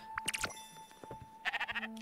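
A sheep in the video game Spiritfarer bleats in short, wavering cries, close and moderately loud, with a couple of quick bleats early and a longer quavering call near the end.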